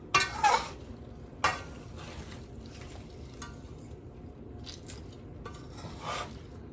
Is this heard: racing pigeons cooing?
no